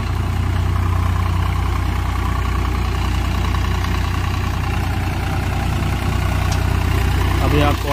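Swaraj 744 XT tractor engine running steadily at low revs, around 1000 to 1200 RPM, a continuous loud low rumble close by throughout, with faint background noise.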